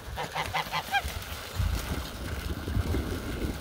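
Domestic geese honk while bathing in water in a rural garden, a short burst of several close honks at the start followed by steady splashing and low rumbling water noise.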